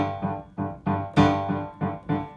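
Piano left hand in G position plays accented staccato notes, eight short, clipped low tones in an even pulse with one louder accent, close and without talk.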